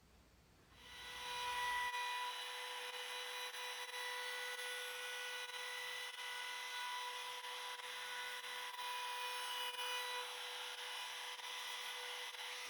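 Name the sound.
router cutting a brace outline into wood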